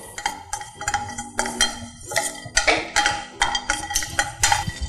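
Crushed turmeric dry-roasting in a pan, with a spoon scraping and stirring in quick, irregular clinks and scratches, close and fairly loud, with no talking.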